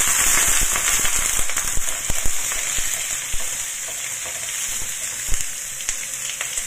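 Pork belly frying in a pan, a loud steady sizzle with dense crackling and scattered sharp pops throughout, no talking.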